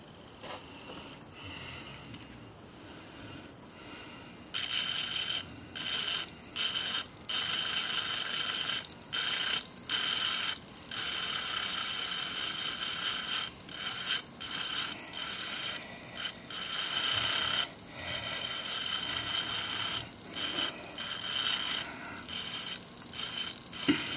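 A rotary tool with a sanding barrel starts whirring at a high pitch on a fossil Scuttilaster major echinoid, grinding with short stop-and-start bursts, a steady buzzy sanding sound that dips and returns repeatedly.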